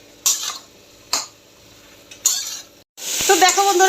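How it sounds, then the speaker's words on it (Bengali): Jackfruit seeds are sautéed in a pan. A few separate spatula scrapes over a low sizzle give way to a loud, continuous frying hiss with steady stirring, all up close. "সুন্দর করে কষিয়ে নিচ্ছি।"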